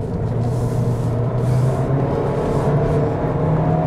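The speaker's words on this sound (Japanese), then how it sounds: "もうちょっとアクセル開けてみます。" Heard from inside the cabin, a Toyota Corolla Sport's engine hums in a steady low drone as the throttle opens, with the pitch rising gradually under road rumble and no talk.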